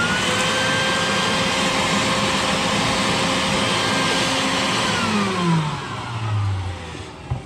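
Shop vacuum sucking bugs out of a furnace that won't start, a steady loud whooshing drone running throughout with a brief pitch shift near the end.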